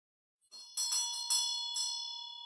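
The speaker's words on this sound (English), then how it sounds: "The bell rings." A bell rings at a dharma teaching in Asheville, several bright metallic strikes in quick succession, each ring sustaining and slowly decaying, clear and alone with no voices.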